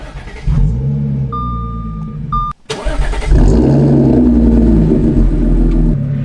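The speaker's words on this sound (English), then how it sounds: "this is a semi-warm start on the AWE exhaust." An Audi S4/S5 fitted with an AWE exhaust, semi-warm, cranks briefly with a starter whine, cuts, then fires into a loud, close, deep rumbling idle that holds steady.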